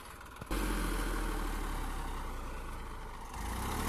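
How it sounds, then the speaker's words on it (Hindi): A Massey Ferguson 241 tractor engine runs steadily with a deep, continuous low rumble that starts abruptly after a brief quieter moment and holds close and loud throughout. "बहुत जबरदस्त ट्रैक्टर है भाई 241।"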